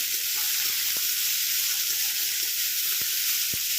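Steady loud sizzling of vegetables frying on high heat, with a few sharp clicks of a utensil against the pan.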